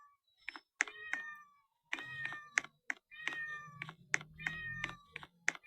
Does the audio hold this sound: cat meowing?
yes